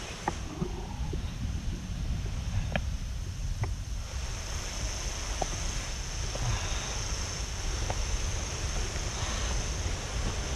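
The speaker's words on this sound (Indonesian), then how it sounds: "air terjun di sebelah kita udah mulai kedengeran banget ya" The Curug Cikawah waterfall near a forest trail in Bogor rushes steadily and continuously in the background, with a few faint clicks and knocks close by.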